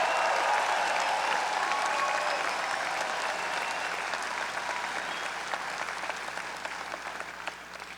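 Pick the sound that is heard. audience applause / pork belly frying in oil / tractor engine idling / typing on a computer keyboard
audience applause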